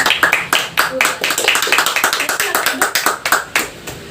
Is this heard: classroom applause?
yes